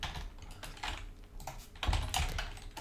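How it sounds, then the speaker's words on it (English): Computer keyboard typing in uneven bursts of quick clicks and key taps, close and clear, with a few heavier strokes near the end and no talking. "struggling with the old typing today"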